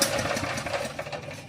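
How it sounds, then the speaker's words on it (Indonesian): A gelondong, a traditional ore-grinding drum machine at a small-scale gold mine, runs with a dense, continuous mechanical clatter and rumble, loud and close with no voices. "Inilah gelondong, mesin untuk menggiling emasnya."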